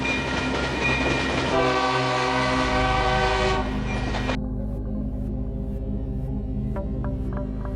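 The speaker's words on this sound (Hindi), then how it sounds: "ये रही ट्रेन की सीटी, लगता है आ ही गई।" A train arrives, rumbling steadily while a loud horn blares for several seconds, then cuts off, leaving the continuing roll of wheels and faint clacks.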